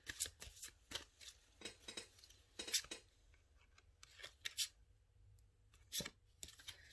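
Tarot cards are shuffled by hand during a pick-a-card reading, producing soft, close, irregular bursts of papery riffling and sliding with short pauses between them.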